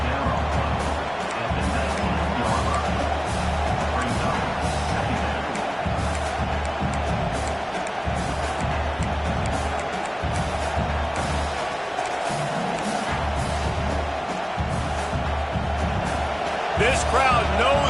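Broad roar of a stadium crowd in the college football game NCAA 26, a constant wash of noise with occasional swells and thuds, beneath steady play-by-play commentary.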